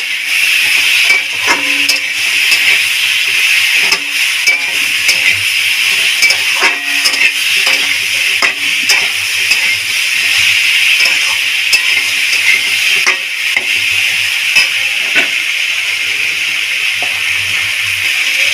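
Ridge gourd frying in a pan with salt and turmeric, a loud continuous hissing sizzle with scattered stirring clatters throughout.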